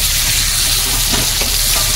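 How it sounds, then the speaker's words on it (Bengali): Potatoes and tomatoes fry in a pan, giving a steady, close sizzle that runs unbroken and fairly loud throughout, with faint stirring underneath. "এবারে আলুর সাথে মা টমেটোটাও ভেজে নিচ্ছে।"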